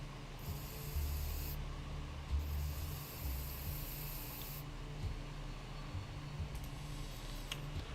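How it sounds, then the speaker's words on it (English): Bug spray hissing into a vent in a video game, in two sustained bursts of bright spray over a steady mechanical hum, with faint ticking in the background. "Yeah, let's use the bug spray."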